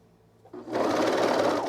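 After a quiet moment, a sewing machine starts up and whirs steadily, stitching a knit neckband onto a garment; the motor is close and loud, with no voices.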